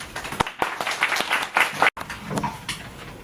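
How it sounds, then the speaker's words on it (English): Applause for a guest speaker at a club meeting, a short burst of clapping from a modest audience that breaks off briefly near the end, then fades out. "let's give a round of applause to our friend Gisele"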